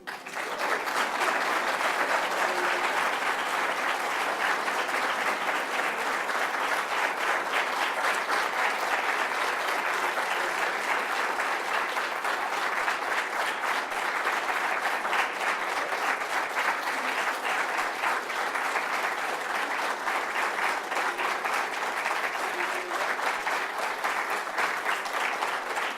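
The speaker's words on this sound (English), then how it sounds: "think the applause says it all, doesn't it?" A literary festival audience gives long, sustained applause, a dense even wash of clapping that continues without a break throughout.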